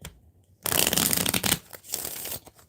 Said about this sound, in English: All right, let me shuffle.